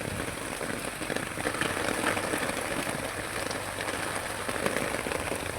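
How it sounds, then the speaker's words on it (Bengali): Heavy rain pouring down outdoors over a rural farming area: a dense, steady hiss of drops striking surfaces, close and unbroken for the whole stretch, with no voices. "এখন প্রচুর বৃষ্টি হচ্ছে"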